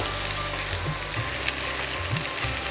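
Carrots and broccoli sautéing in a pan for a mixed vegetable diet soup, producing a continuous dense sizzle with low rumbling underneath, steady and close with no voices.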